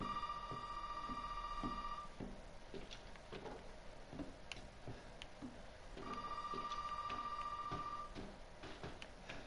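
A telephone rings inside the Resident Evil 7 game, two bursts of repeated electronic trilling with a gap between them over dark ambient game noise.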